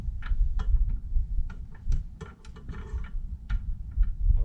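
A wrench clicks as it turns the gear lube plug on a Mercury Optimax Pro XS 250 HP outboard, giving a series of faint, irregular ratcheting ticks over a low background rumble.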